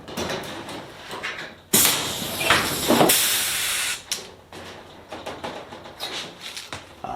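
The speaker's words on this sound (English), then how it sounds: "I'm going to go ahead and try and pull a new rivet in there and see what happens." A rivet gun pulls a new rivet into a drilled hole in aircraft sheet metal on a Sonex turtledeck, making a loud hissing burst of about two seconds, then quieter clicks and handling noise.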